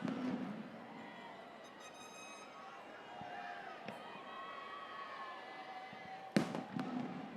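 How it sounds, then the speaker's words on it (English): Fireworks burst outdoors at a 2021 high school graduation ceremony, a sharp bang near the end following scattered distant pops, all beneath a busy crowd murmur with people talking. "Look at the fireworks."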